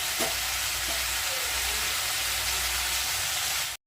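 Bitter gourd frying in plenty of oil gives a loud, dense, continuous sizzle close up that cuts off abruptly at the end.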